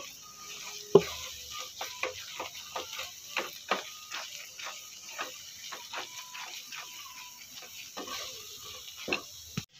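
A spiced pea filling for Bengali koraishutir kochuri is stirred and mixed in a frying pan, a soft background sizzle with scattered scraping clicks of the spoon and one louder knock early on.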